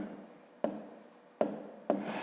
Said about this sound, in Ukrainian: Пишемо в дужках чого дециметрів